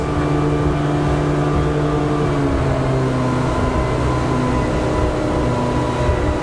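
A 2019 Greenline NEO motorboat engine roars steadily at wide open throttle, around 5,200 to 5,300 rpm, loud and close, with constant high revs and rushing noise throughout.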